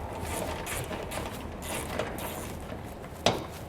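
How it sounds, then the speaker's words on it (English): Ratchet wrench with a small 10 mm socket loosening a bolt while mounting a rear suspension enhancement kit on a 2015 Chevrolet, heard as a steady close run of fine ratcheting clicks ending in a sharper snap. "I switched down to a smaller socket. It's still a 10 millimeter just to get this last little part off"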